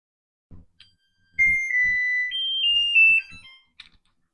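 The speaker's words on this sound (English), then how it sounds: "I have a few more seconds here before the timer goes off" A kitchen timer sounds during vegetable canning, a loud, close electronic beeping tone that rings steadily for about two seconds, shifting pitch slightly, with clatter and knocks from around the kitchen before and after.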